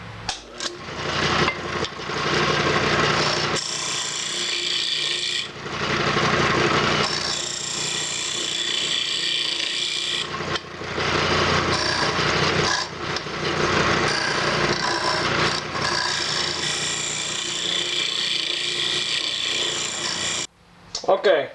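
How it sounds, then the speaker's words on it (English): A French bowl scraper smooths the inside of a turned wooden box on a spinning lathe, giving bursts of rough scraping and whirring broken by short pauses, close up. "Now I have my French bowl scraper, and I'm just going to go ahead in there and smooth out all that roughness in there."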